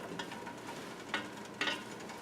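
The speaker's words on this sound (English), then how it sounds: "Now that it's beginning to sizzle a little bit, just make sure you stir it continuously." Onions, carrots and celery sizzle quietly in hot oil as the base of a lentil soup, with a faint steady hiss and two brief scraping stirs near the end, no voices.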